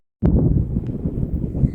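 Wind buffets the microphone in a sudden, low rumbling gust that continues roughly and unevenly after it starts, outdoors in Bellinzona, Switzerland.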